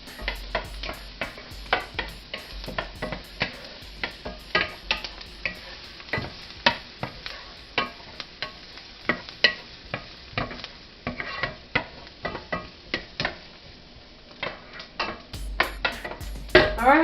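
Vegetables caramelizing in a pan for cornbread Thanksgiving dressing, stirred with repeated sharp scrapes and clacks of a utensil over a steady close sizzle, with no talking.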